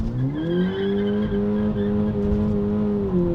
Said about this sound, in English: Listen to the wheel spin the car will do.